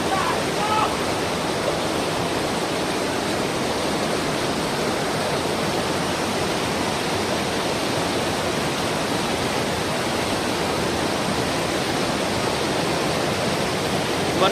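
A mountain river in Sikkim rushes steadily over rocks, a loud, continuous broadband roar of flowing water close by that holds level throughout with no pauses.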